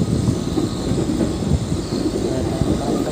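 Steady low rumble and rattle of a moving passenger train ride near Rangkasbitung, a continuous dense clatter from inside the carriage with no clear voices.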